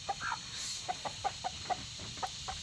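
Chicken on a farm clucking in short, soft bursts while pecking at banana, several brief clucks at an uneven rhythm against a quiet outdoor background.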